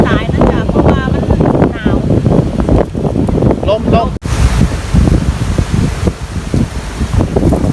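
Strong wind buffets the microphone outdoors while mushrooms are gathered in the rain, a loud continuous rumble under a voice that talks throughout.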